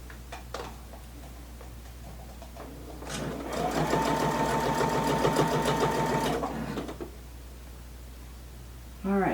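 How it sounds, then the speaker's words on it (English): A sewing machine stitches a pillowcase, running at a steady fast mechanical whir for about three seconds, close and loud, with handling clicks and rustles before and after. "And then I'm going to start stitching."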